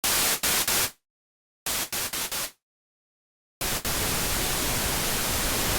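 Noise sources of a synthesizer's noise section played with the oscillators off, bursts of broadband hiss cut by two silent gaps, then a steady sustained hiss.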